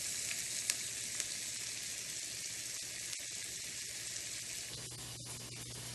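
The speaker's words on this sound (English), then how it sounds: "So we put the bacon reserve in the pan, in a big pan, and we add the shallots" Shallots frying in reserved bacon fat in a big pan, a soft steady sizzle running throughout with a few faint clicks and clatters near the end.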